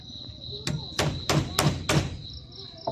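Hammer blows driving nails while building a bamboo bench outdoors at night, five sharp evenly spaced knocks in quick succession over a steady high insect drone, fairly close.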